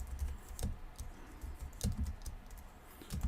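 Computer keyboard keys clatter in quick uneven bursts while code is typed, close and fairly quiet, with a few sharper key hits standing out and no talking.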